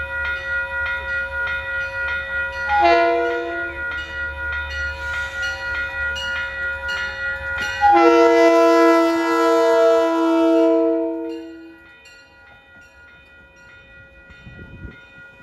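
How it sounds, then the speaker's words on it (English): A cab car horn sounds on a passing train at Iona Island, chords with stacked harmonics blaring around the third second and again from eight to eleven seconds, loud and close over steady rumbling wheels. "Cab car first with the second worst cab car horn in railroading."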